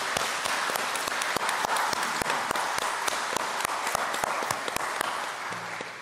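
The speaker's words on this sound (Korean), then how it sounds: "우리 박수 한번 칠까요?" A church congregation claps together in steady, fairly quiet applause with sharp individual claps standing out, then tapers off near the end.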